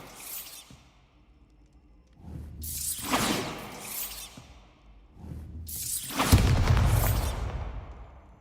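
Bombarda blasting spells in Hogwarts Legacy, several whooshing bursts swelling into booming explosions, the last one loudest and heaviest, with quiet gaps between.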